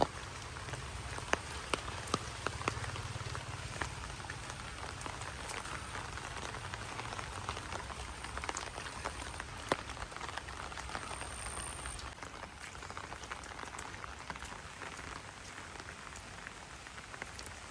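Steady rain patters on a surface, a soft continuous hiss dotted with individual drops, heard quietly with no voices.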